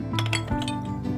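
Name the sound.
washing clay diya lamps, clinking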